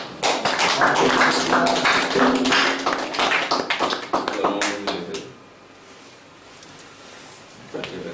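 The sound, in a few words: congregation clapping in acclamation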